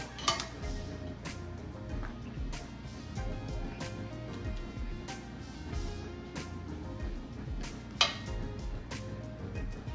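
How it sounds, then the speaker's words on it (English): Dry rigatoni pasta tumbles into a baking dish for baked ziti, giving scattered hard clinks and rattles with a few sharper taps, moderately close over a low kitchen hum. "We have rigatoni pasta, which is the squiggles like this. So I am just gonna take some and sprinkle it all around."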